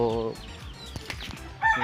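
Pet ducks kept in a backyard enclosure with their little house, two of them male and one female, calling with short harmonic quacks at the start and end, close by, with faint rustling between the calls.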